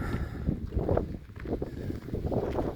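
Gusty wind in the foothills on a chilly August day buffets the microphone in low, rumbling surges that rise and fall every second or so, with no one speaking.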